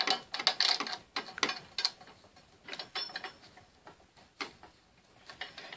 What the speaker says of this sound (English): let's go ahead and get the screw back in.